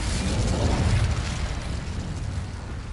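An Incendio fire spell blasts in Hogwarts Legacy, a loud rumbling whoosh of flame that swells over the first second and then slowly trails off with no voices.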